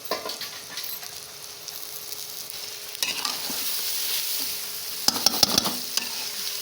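Fish fries in spiced masala oil with a continuous sizzle, and stirring grows busier toward the end, with a few sharp scrapes and clanks of the utensil against the pan.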